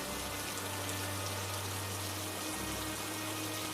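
Steady rain falling in a Hindi cartoon village scene, a continuous broadband hiss with a low hum beneath, constant and moderately loud with no voices.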